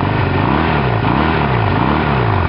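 A 1985 Honda Rebel 250 motorcycle engine idles with the choke fully off, running loud and close with a steady, slightly wavering putter that rises and dips in pitch as it struggles to hold idle.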